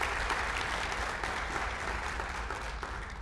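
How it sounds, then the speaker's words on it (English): Steady applause from a meeting audience at a tourism organization's annual gathering, a dense even wash of clapping that holds at an unchanging level from start to finish with no voices standing out. "Let's give him a round of applause"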